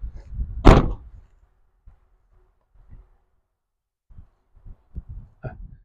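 A car's rear door shuts once with a loud, solid thunk near the start, followed by a few faint knocks and small handling sounds against quiet.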